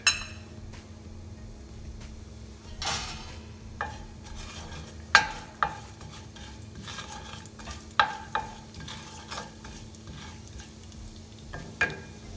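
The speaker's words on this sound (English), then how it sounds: "I'm gonna add some cumin seeds and the kalonji seeds. Let them toast a bit." Cumin and kalonji seeds toasting in hot oil in a pan for keema samosa filling, a soft steady crackle with scattered light clinks and taps of a utensil against the pan, no voices.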